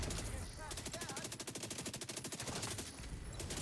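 Slingshot SMG in The Division 2 firing a fast continuous automatic stream of shots, tight rhythmic cracks under muffled in-game noise and faint voices.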